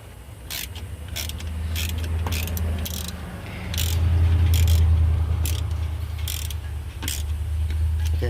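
A 1/2-inch ratchet wrench loosens bracket bolts on a Ram 1500 engine during a water pump replacement, its clicking pawl heard in quick repeated bursts over a steady low hum, close and without talk.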